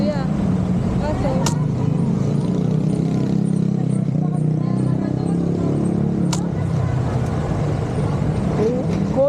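Heavy road traffic with trucks forms a steady, loud low rumble throughout, with brief sharp hissing bursts like air brakes releasing near the start and middle.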